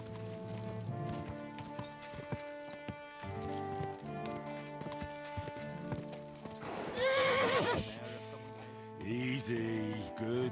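A horse in Kingdom Come: Deliverance II clip-clops at a steady walk under a music bed, then lets out a loud, close whinny followed by a shorter neigh near the end.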